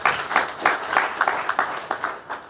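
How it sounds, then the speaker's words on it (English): Convention audience at a rural private hospitals gathering clapping in a thin, uneven patter of individual claps, about a dozen distinct bursts over a couple of seconds. "Let's give him another round of applause"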